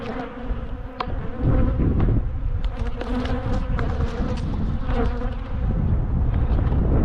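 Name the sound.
angry bees buzzing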